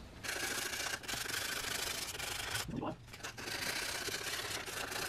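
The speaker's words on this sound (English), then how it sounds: "I'm gonna go ahead and sand the rest of the areas that I couldn't get with the power tool" Hand sanding of a bare metal rear subframe on a BMW E46, a steady close rubbing rasp with a brief pause and a short interruption partway through.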